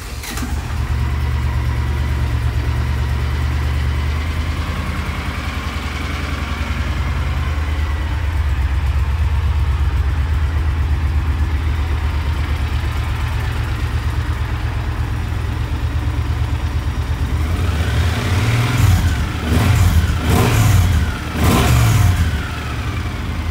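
A 2013 Triumph Thunderbird 1600 motorcycle engine cranks and starts up close, then settles into a steady, loud, deep idle, with a few sharper revs near the end.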